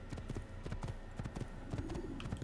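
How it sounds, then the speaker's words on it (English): Horse hooves clip-clop in a brisk, galloping rhythm while riding through the open world of Assassin's Creed, close and clear over a faint game ambience. "I'm literally just riding a horse in the open world"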